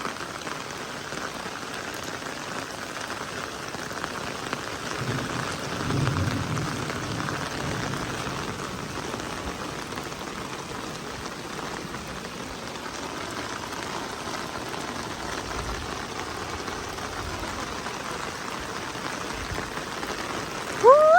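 Heavy storm rain pours steadily on surfaces along a flooding street in Thailand, a continuous hiss that swells briefly in the middle and holds at moderate level to the end.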